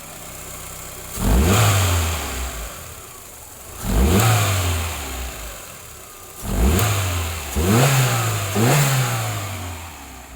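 A Tofaş Tempra 1.6 MPI car engine is revved repeatedly at close range, with five sharp throttle blips that climb and fall back to a steady idle, and no talking.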